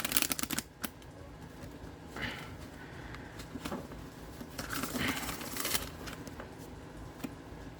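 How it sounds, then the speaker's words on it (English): Close, repeated hand shuffling of a tarot deck: soft papery card riffles and slides come in uneven bursts over a low steady room background. "I just want to shuffle for a minute."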